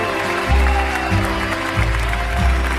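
Applause at a music awards gala for the Bluegrass Artist of the Year, a broad wash of clapping that blends with a sustained low musical drone and thumping bass.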